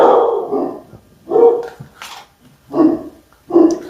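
Several dogs barking in loud, irregular bursts close by, four separate volleys of gruff barks with short gaps between them, no talk over them.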